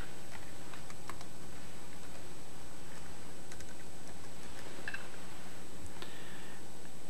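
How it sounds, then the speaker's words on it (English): Keys on a computer keyboard click as a search is typed, sparse soft taps scattered over a constant steady hiss and hum, no one speaking. "Click in the text box and just type in what you would like for your search."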